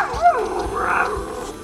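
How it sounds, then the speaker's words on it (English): Short electronic puppy yips and whimpers play from the small built-in speaker of a Tombot Jennie robot puppy, a couple of high, bending squeaks in quick succession. "A built-in speaker allows communication with authentic puppy sounds."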